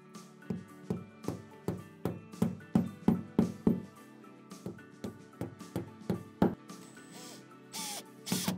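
Wall plugs being tapped into drilled holes in tiles during a toilet installation: a steady run of sharp, close knocks, about two per second, with a few scraping sounds near the end.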